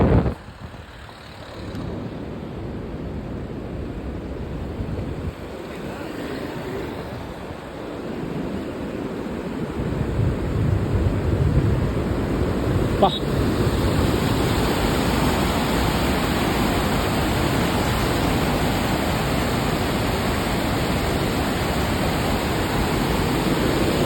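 The overflowing Palar river in Vellore rushes past in a broad, steady roar of water, loud and continuous, growing fuller after the first seconds, with no talk.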